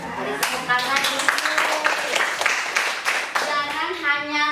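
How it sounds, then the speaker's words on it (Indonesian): Students clapping together in a junior high school classroom, a close, fairly loud burst of hand claps mixed with voices, with a speaking voice and some singing-like tones over it near the end. "Beri tepuk tangan dulu."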